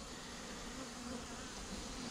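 Honey bees swarm around freshly harvested honey outdoors, a continuous dense buzzing hum from many insects, faint but steady throughout.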